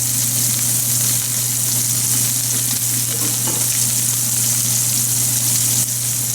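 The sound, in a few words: shell pasta with ground meat frying in a greased pan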